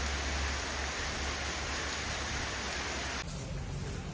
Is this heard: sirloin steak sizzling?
no